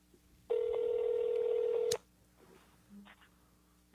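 A single steady telephone tone sounds loud and clear for about a second and a half, cutting off abruptly, followed by faint background noise and a brief low blip.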